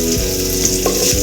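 Sliced onions frying in a pan for ivy gourd chutney, a steady loud sizzle heard up close without any talk.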